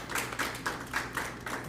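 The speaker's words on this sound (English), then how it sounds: "How's about a round of applause for my colleagues over here?" A small group gives a round of applause for colleagues at a gathering, a faint, sparse patter of a few hands clapping in loose bursts, quiet and fairly distant.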